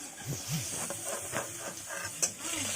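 Paneer fries in ghee in a wok, giving a steady, quiet hiss with soft bubbling pops throughout and one sharp tick near the end.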